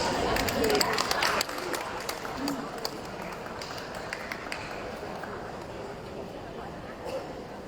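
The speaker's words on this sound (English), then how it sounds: "Let's give them a warm round of applause." An audience applauding at a talent quest event, a dense, even patter of clapping filling the room throughout, a bit louder at the start and then holding steady.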